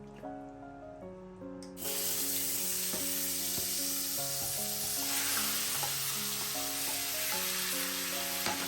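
Onion and garlic sautéing in a pan as chicken bhuna masala is prepared, a steady close sizzle with occasional stirring scrapes under soft background music.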